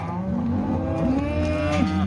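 Cattle at a ranch gate sort, a cow and calf mooing in long, loud, drawn-out calls close by, overlapping lowing over a faint background rumble.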